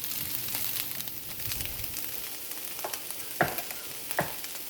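Chicken and vegetables stir-fry on a flame thrower grill, giving a steady hiss with a few louder clatters near the end, as if food is being tossed or scraped.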